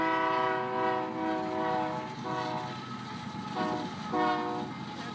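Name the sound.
train passing with horn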